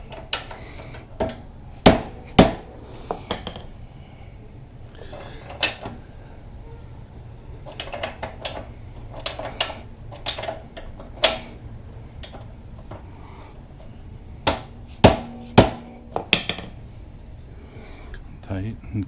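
Sharp metallic taps and knocks come in irregular clusters as the rear axle of a Can-Am Spyder RT is driven forward, loud and close against a quiet workshop background.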